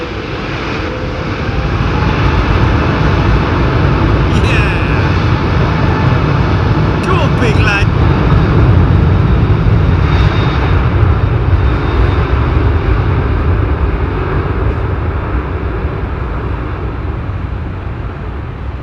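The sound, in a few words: airplanes landing at London Heathrow Airport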